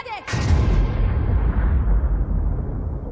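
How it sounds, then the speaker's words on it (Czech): A submarine explodes in the animated film The Lego Movie 2, a sudden loud blast with a sharp onset that rolls into a long, heavy rumbling roar lasting several seconds. "A teď ta ponorka prostě vybouchne."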